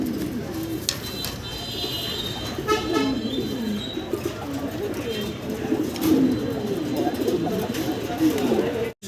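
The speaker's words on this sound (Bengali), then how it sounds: "ভিডিও স্ক্রিনে আমরা দেখতেছি বাইরের কাছে একজোড়া ড্যানিশ কবুতর, সাদা দবদবা" A pair of white Danish pigeons coos in soft, low, repeated rolling calls close by, with a few higher chirps from other birds and someone talking over them much of the time.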